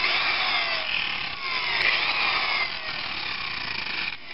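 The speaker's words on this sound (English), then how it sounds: "we finished that off with some more reasonable 120 sandpaper" Foam leading edge of a model airplane wing being sanded with 120-grit sandpaper, a steady, fairly loud rasping scrape running continuously with slight surges and no talking.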